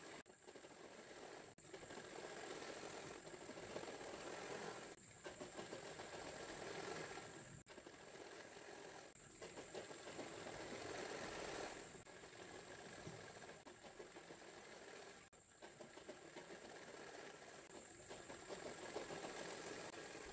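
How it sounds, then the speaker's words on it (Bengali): A sewing machine stitches along trouser fabric in repeated runs, each a steady mechanical whirr broken by short pauses, faint and close with no talk. "তারপরে এইখানে আমি সেলাই করে নেব পুরোটা"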